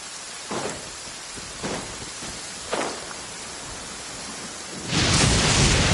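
Steady rain pours in a video game scene, a constant wash of noise with a few soft thumps, swelling louder near the end.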